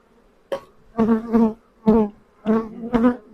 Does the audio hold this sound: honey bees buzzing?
yes